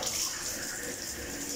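Water runs steadily from a shower in a bathroom under inspection, a continuous, even hiss that stays at a constant level for the whole stretch with no talk over it.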